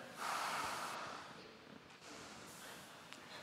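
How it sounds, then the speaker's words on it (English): A crowd of people standing together draws in one long, loud collective breath, a broad airy rush that swells and then eases off, with smaller scattered breaths and shuffles afterward. "Everybody take a deep breath."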